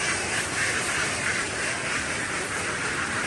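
A large flock of about a thousand five-month-old ducks quack together as they are loaded, a dense, loud, unbroken chorus filling the whole stretch without speech.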